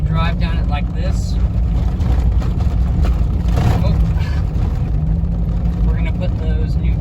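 A lifted 2001 Chevrolet Silverado gasoline pickup rolls over a rough road, its steady low engine and road rumble droning continuously up close, with rattles and brief talk mixed in.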